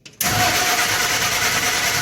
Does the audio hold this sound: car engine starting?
yes